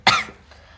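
One short throaty cough from a person with a sore throat, close and fairly loud, followed by a brief faint trailing sound.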